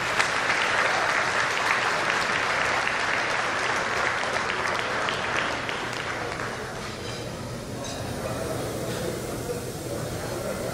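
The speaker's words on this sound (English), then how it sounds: "let us give this man a round of applause" Loud audience applause for Mr. Lashley at a formal gathering, a dense wash of clapping that swells at first, then thins and softens toward the end, with crowd voices underneath.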